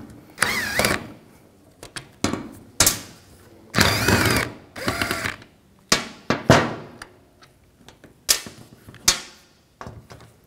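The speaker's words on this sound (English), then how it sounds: "Take these 3 bolts out, use an 8mm socket." An 8mm socket ratchet removes three bolts from a car door regulator, producing close, intermittent bursts of clicking and metallic clatter separated by short pauses.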